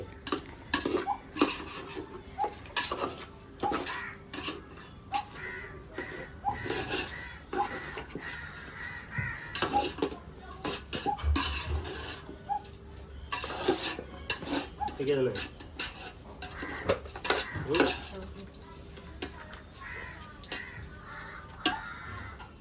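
Biryani is stirred in a metal pot with repeated close scraping and clanking of a spoon against the pot, while crows caw in the background, with no voices.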